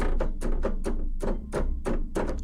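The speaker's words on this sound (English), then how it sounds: "Buttons being pressed." Buttons on a Roland Axis keytar are pressed in a quick, uneven series of close, dull thunks and taps, about ten presses over a low steady hum.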